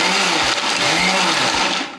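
A kitchen mixer grinder coarsely grinds wheat for ladoo in short, loud bursts. Its whirring motor is pulsed on and off about three times in quick succession.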